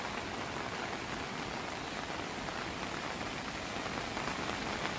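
Heavy monsoon rain in Kerala hills near Muthappanpuzha, a dense, even roar of rain pounding surfaces, constant and enveloping for the whole stretch with no talking.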